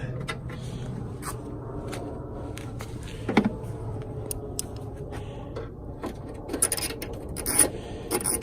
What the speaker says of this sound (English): But now I can use a socket.